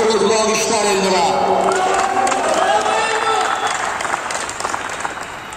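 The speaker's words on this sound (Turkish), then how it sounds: "gürültülü alkışlar Elnur'a" A crowd at a football cup final applauds and cheers loudly, clapping and shouting together with a voice talking over it, the applause gradually fading toward the end.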